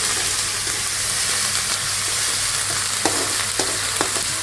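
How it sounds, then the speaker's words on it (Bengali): Onion paste and ground cinnamon, cardamom, clove and cumin fry in oil while being stirred, making a loud continuous sizzle with scattered scraping clicks from the spoon near the end. "এখন আমি যে হালকা ভেজে মশলাগুলো কষিয়ে নিয়েছি, পেঁয়াজগুলো"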